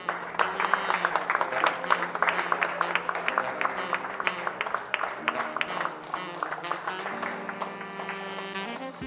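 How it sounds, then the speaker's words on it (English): A crowd applauds an under-13 girls' medalist at a youth table tennis championship awards ceremony, brisk clapping in a hall that holds steady and then thins toward the end. "She's receiving a lofty round of applause there by the crowd"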